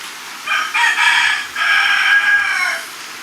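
A rooster crows loudly and close by, one long drawn-out call broken into a few sustained phrases, standing alone over a quiet background.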